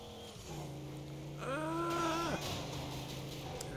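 A car engine in the video game Midnight Club: Los Angeles hums low and steady, then revs upward in a brief rising whine before settling back, all fairly faint.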